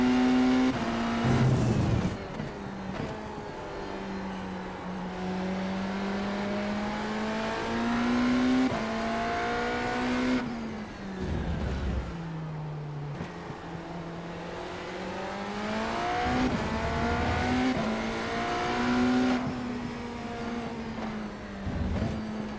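Hypercar race cars in a racing game at Catalunya roar past, engines revving up and down through gear changes, with several sweeping pass-bys and sharp acceleration bursts, loud and continuous.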